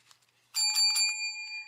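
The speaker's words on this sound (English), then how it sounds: "ringing that bell" A small bell rung once, giving a bright, clear ding with a few quick strikes that ring out and fade, close and alone.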